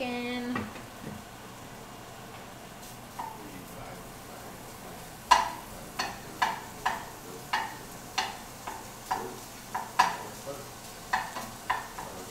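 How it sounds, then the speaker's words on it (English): Bacon fries in a pan with a soft, continuous sizzle, while a series of sharp clinks and taps repeats roughly every half second, like a utensil working the pan, fairly quiet and close. "Frying our bacon."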